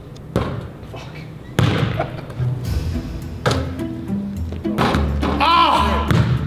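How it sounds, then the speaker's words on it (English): Basketball shots bouncing: several heavy thuds spaced a second or more apart, some ringing slightly, under people talking nearby throughout. "You don't know how to shoot a basketball?"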